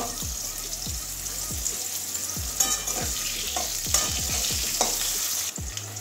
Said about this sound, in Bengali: ওই তেলের মধ্যে আলুটাও ভেজে নেবো হালকা